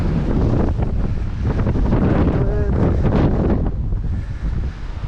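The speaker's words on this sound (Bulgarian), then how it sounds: "Вятър." Strong, steady wind buffets the microphone on a mountain hike toward Cherni Vrah above Aleko hut, a loud continuous roar with gusts and no talk.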